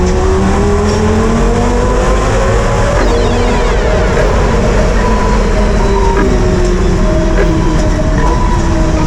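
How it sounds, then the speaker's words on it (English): A Lexus LFA V10 engine revs hard through a tunnel, a loud, dense, echoing howl that climbs and falls in pitch, sustained close throughout with no talking. "this is the best sounding V10 in my opinion"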